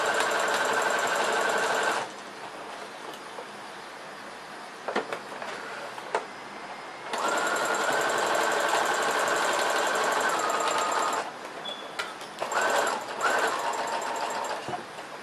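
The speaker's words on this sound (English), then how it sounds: "and then continue sewing" A sewing machine stitches an origami crescent sleeve in three loud, close bursts of rapid whirring, separated by quieter gaps with faint handling noises.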